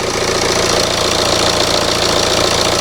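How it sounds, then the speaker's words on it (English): A rough-running BMW engine idling just after start-up, thought to need injector cleaning, with a steady, dense, slightly uneven knocking rumble held close and loud throughout, with no talking. "just going to start the engine up now and then check for leaks"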